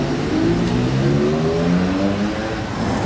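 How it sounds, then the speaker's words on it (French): Porsche GT3 Touring and Spider RS sports cars in a convoy drive past on a Monaco street, engines droning and rising in pitch as they pass close by, loud and steady without talk. "Regardez le convoi GT3 Touring"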